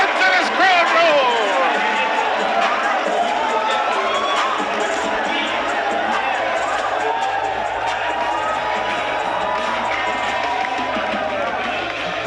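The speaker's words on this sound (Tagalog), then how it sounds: "And listen to this crowd roar!" A large boxing-event crowd roars loudly and continuously, with cheers, whoops and shouts layered into a dense wall of noise while a commentator's voice cuts through.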